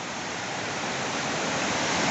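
Strong current of a mountain river at Serra Azul, Palmares, Pernambuco, running high in the rain: a loud, steady, dense rush of water close by, unbroken throughout with no voices.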